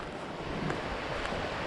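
Steady broadband rush of the Tule River flowing in the Sierra Nevada, a constant close wash of water with no pauses and no voices.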